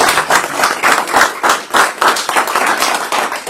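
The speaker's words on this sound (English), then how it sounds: "let's give him a round of applause" Audience at a startup networking event applauding a speaker, a dense burst of close hand clapping that rises and falls in waves, without speech.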